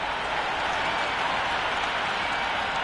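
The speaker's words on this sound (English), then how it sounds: "We're about to get underway and already the crowd is up and about." A cricket stadium crowd at an IPL match between Chennai Super Kings and Sunrisers Hyderabad applauds and cheers before play, a steady, continuous roar of clapping heard from a distance.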